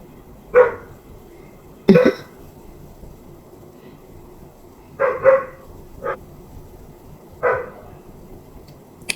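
A dog barks from another room indoors, giving six or so separate, moderately loud barks spaced irregularly over several seconds against a quiet background, with no talk over them.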